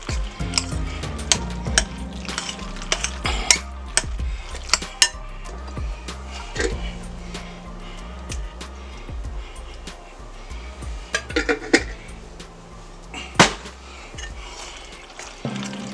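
A utensil mixes macaroni ham salad in a bowl, with repeated clinks and scrapes against the dish in an irregular rhythm and some quiet talk at times.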